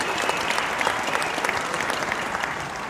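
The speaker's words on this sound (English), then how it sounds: "Warm a big round of applause, please, for the Anchor Bay Blue Combo." An audience at a school winter jazz concert applauds the Anchor Bay Blue Combo. The clapping is steady and dense, moderately loud, and runs for a few seconds with no voices.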